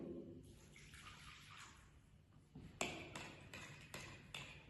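Warm water pours steadily and faintly into a bowl to dissolve yeast for doughnut dough, ending in a run of splashes and drips.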